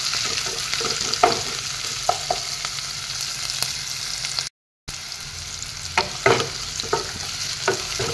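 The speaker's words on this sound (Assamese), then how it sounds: "পিঁয়াজখিনি অলপ নৰম হৈছে।" Sliced onions sizzle in a hot pan for chicken curry, with repeated scraping stirs of a spatula; loud and close, with a brief dropout midway.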